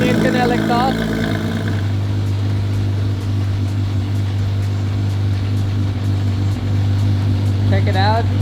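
A Porsche 997 GT3 engine idles with its exhaust valves open, a steady deep drone running throughout while people talk over it near the start and end.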